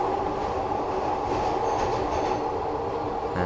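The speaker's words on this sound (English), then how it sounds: "And the train moving forward." A Glasgow Subway train rolling forward in a train simulator game, a steady rumbling run with a mid-pitched drone and faint rail clatter, continuous throughout.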